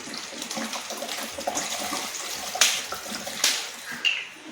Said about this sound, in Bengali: আবার সব কটায় আমি জল দিয়ে দেবো